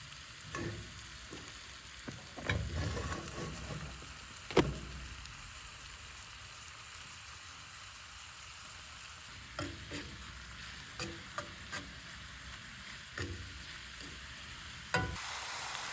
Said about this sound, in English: Next, I'm gonna put in the entoloma, the aborted entoloma, and I'm gonna cut it into slices.